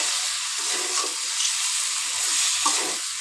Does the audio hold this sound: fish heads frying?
yes